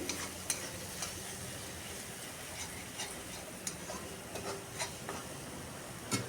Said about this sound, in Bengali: লবণটা দিয়েও আরও কিছুক্ষণ কষিয়ে নিচ্ছি।